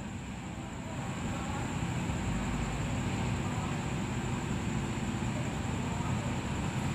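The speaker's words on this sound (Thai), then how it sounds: "นี่คือเสียงของคีฮะ183ค่ะ" A KiHa 183 diesel train stands at a station platform with its engine idling in a continuous low rumble and a broad, even hiss that holds steady throughout.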